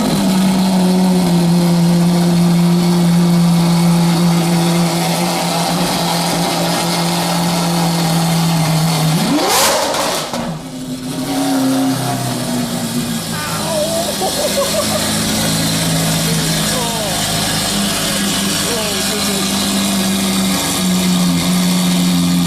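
A Mansory Carbonado Lamborghini Aventador, a strictly limited car, rumbles steadily before a sharp, very loud rev surge midway, then settles back to a droning idle.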